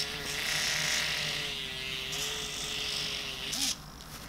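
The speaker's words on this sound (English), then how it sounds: "You listen very carefully, you can hear the cat purring." Homemade robot cat with a small motor giving off a steady, faint electric buzz meant as purring, running continuously with a slight waver, then a brief change near the end.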